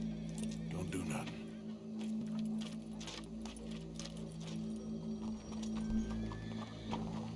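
Horse hooves clip-clopping in the video game Red Dead Redemption 2, a steady rhythmic clatter of hoofbeats over a humming background, with voices talking throughout.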